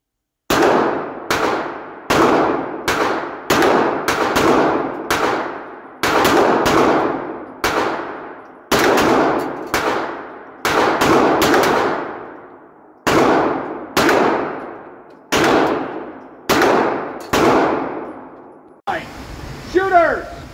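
Pistol shots ring against steel targets at an indoor GSSF match, about sixteen sharp impacts in a steady rhythm, each with a bright metallic clang and short room echo, loud and close, ending with brief noise.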